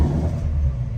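A Ford Mustang GT V8 with a recurring check engine light rumbles low and loud up close as it fires up, a short steady growl with no talk.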